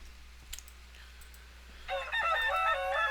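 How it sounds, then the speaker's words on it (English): A low hum and a few faint clicks, then chickens in the game TerraFirmaCraft start clucking and crowing, a bright layered chorus that continues to the end. "I hear lots of chickens"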